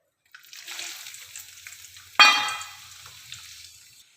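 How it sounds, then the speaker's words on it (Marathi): Amla pieces dropped into melted coconut oil set off a sudden sharp burst of sizzling that fades over about a second, after a quieter crackle of hot oil, heard close and without voices. "आता खोबरेल तेलामध्ये हे आवळ्याचे तुकडे घालून घेते आहे."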